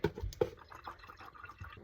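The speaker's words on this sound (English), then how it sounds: "I'm going to add water until like this little button here" Water poured into a coffee maker's reservoir, a short splashing and dripping fill with faint trickles, close and fairly quiet with no talking.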